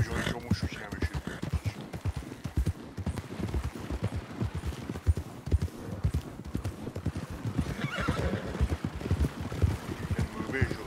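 Horse hooves clip-clop in a rapid, steady rhythm in a roleplay video game, with occasional neighing and wind, up close and fairly loud under light talk.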